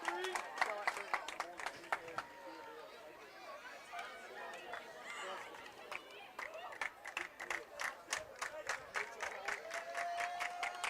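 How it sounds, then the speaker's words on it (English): A Harris County softball crowd at a game makes noise, with scattered rhythmic clapping and chatter from the stands, fairly faint and distant, while announcers talk over it throughout. "You can hear the Harris County crowd making noise now."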